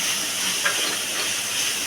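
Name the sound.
food sizzling while frying in pan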